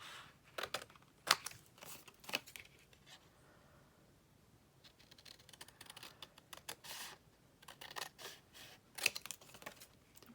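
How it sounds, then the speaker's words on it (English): Sharp, separate snips of a pair of scissors chopping the corners off paper pocket tags, coming in quick irregular clusters with quiet gaps between, close and fairly soft, with no talking. "I could use a trimmer, but you know, a pair of scissors is probably just a bit quicker."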